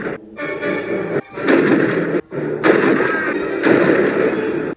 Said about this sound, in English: Here comes out Elizabeth Clay, as well as Red, Stratemeyer, Emmett, and Tilghman, all shooting Brad Wesley by taking turns.